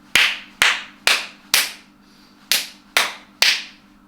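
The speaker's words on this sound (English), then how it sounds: "I will clap without counting." Hand claps in an irregular, syncopated rhythm during a piano lesson on syncopation, seven sharp close claps with uneven gaps and a pause midway, played alone over a faint steady hum.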